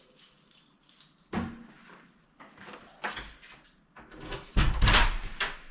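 A door unlocked and opened at home: a few scattered clicks and clunks of the lock and handle, then a louder thump and rattle as the door swings open near the end, with no talking.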